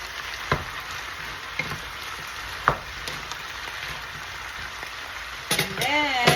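Vegetables stir-fried with fish sauce in a pan crackle and sizzle softly and steadily, with a few sharp clacks of a utensil against the pan and a brief voice near the end.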